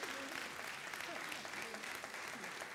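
A church congregation applauds together in a dense, continuous wash of clapping that stays even and fairly loud throughout, with voices mixed into the crowd noise.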